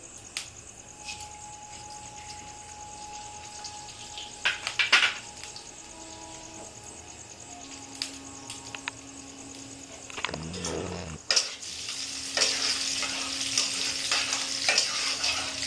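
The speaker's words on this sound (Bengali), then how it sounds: "গোটা জিরাটা দিয়ে দিলাম যখন ফুটে যাবে" Whole cumin seeds spluttering in about two tablespoons of hot oil for mutton keema with kabuli chana, a low sizzle with a few stirring clatters, swelling into a louder, denser crackle near the end.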